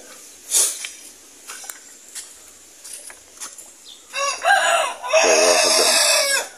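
Chickens on a Filipino backyard farm, a mother hen among them, cluck in scattered bursts that build into a louder, steady run of clucking and calling near the end.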